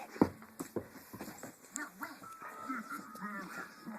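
A dog whimpering and whining for a ball, a few short, close, high-pitched whines and snuffles, with a person talking softly in between.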